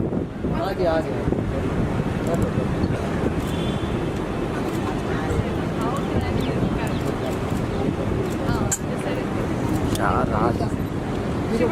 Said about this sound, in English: There's too much of wind blowing.